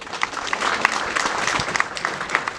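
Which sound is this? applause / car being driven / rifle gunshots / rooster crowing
applause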